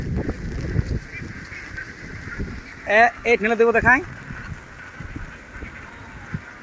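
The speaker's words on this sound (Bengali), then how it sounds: "একদম হাঁসে একদম কলকলা করা আছে" Farm ducks being fed paddy grain in the rain break into a loud, dense burst of honking quacks for about a second, with people talking before and after.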